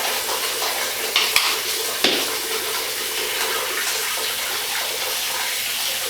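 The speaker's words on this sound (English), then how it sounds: "So I fill my sink with water" Water runs steadily from a tap into a sink basin, a continuous rushing splash with a couple of brief clinks near the start.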